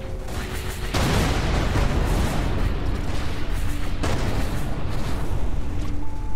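Continuous booming explosions from a bomber ship's bombs in the space game Everspace 2, loud and dense throughout with a couple of sharper blasts standing out, no talking.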